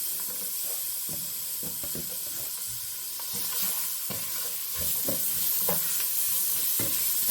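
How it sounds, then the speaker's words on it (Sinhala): Chopped garlic and onion fry in hot oil, giving a continuous hiss and sizzle punctuated by repeated clicking scrapes of a spoon stirring the pan, close and fairly quiet, with no voices. "හොඳට තෙලෙන් බැදෙන්න දෙනවා."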